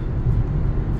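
A taxi fitted with a VGT turbo engine speeds up from around 70 without a gear change as the throttle is pressed, giving a loud, steady low rumble from inside the car with no speech.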